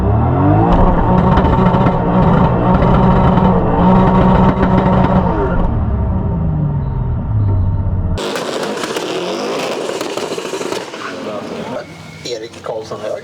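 A BMW E92 fitted with a Toyota engine accelerates hard in a street race, a loud roaring engine climbing through gears near and then a sudden shift to a rougher, more distant drone.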